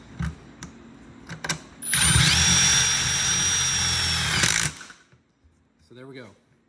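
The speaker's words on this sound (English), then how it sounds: "I've got a 7/16 socket on here. Got my Milwaukee M18 drill" A Milwaukee M18 drill fitted with a 7/16 socket drives a self-drilling screw into a garage door, a steady loud whine lasting about three seconds after a few light clicks, then cutting off abruptly before a brief voice.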